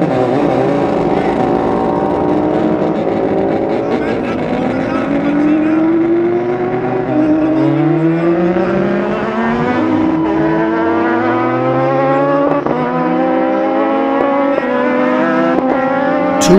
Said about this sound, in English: The warning signal sounds for the arrival of Dan Neen, number 14, on his Kawasaki